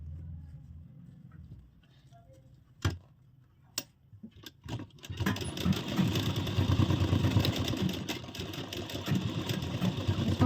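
A sewing machine stitching a blouse starts after a few sharp clicks and knocks, then runs continuously with a steady, rapid mechanical whir and chatter, fairly loud and close.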